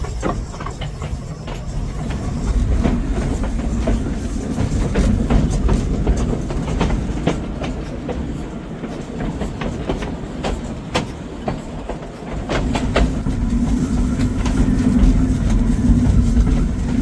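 A steam locomotive train rolls steadily along the rails with a deep rumble and rhythmic clickety-clack of wheels over joints, continuous and close.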